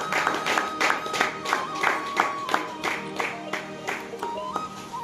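Audience clapping at an outdoor gospel crusade in Cherukupalli as a saree is presented as a gift, steady moderate applause with repeated hand-clap bursts and a faint sustained tone behind it.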